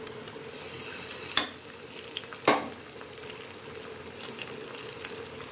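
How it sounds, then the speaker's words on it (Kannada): Onion, green chilli and ginger garlic paste frying in hot oil for biryani make a steady, soft sizzling hiss, close and even, broken by two brief sharp clinks from a utensil. "ಎಣ್ಣೆಗೆ ಈರುಳ್ಳಿ ಮತ್ತು ಹಸಿಮೆಣಸಿನ್ಕಾಯಿ ಎಲ್ಲ ಹಾಕಿದ್ದೀನಿ. ಚೆನ್ನಾಗಿ ಫ್ರೈ ಮಾಡ್ಕೊಳ್ಳಿ."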